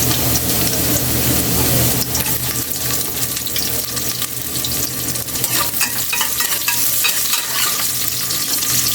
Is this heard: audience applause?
no